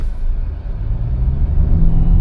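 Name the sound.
Hyundai Venue diesel engine idling at a stop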